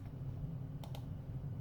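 Two quick, light mouse clicks land close together while a button is pressed in the Warhammer Combat Cards video game, over a steady low hum with no talking.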